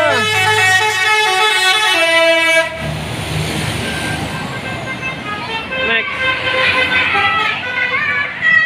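A bus sounds a loud musical basuri horn, playing a bright multi-tone melody for about three seconds, then rumbles past amid roadside traffic and crowd noise, with a second burst of horn tones near the end.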